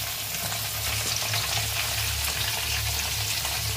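Mutton pieces fry in a pan with salt, turmeric and spices, giving a steady, close crackling sizzle with soft stirring scrapes throughout and no voices.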